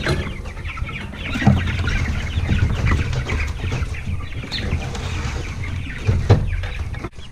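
Freedom Ranger and Cornish Cross meat chickens on pasture cluck and murmur steadily at close range, with a few louder calls standing out against a busy outdoor background.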